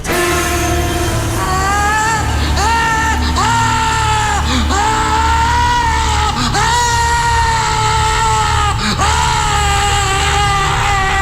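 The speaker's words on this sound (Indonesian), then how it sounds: "tiba-tiba mulutnya menganga, terbuka sangat lebar dan berteriak kencang" A woman screams loudly and repeatedly in a radio horror drama, with long, piercing wailing cries that rise and fall over a dense, droning background.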